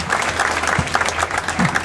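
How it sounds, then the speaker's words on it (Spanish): An audience at a ninth-grade graduation ceremony in Los Lagartos applauds a municipal mayor, a steady dense patter of many hands clapping throughout, with a voice faintly heard beneath. "Aplauso, un aplauso"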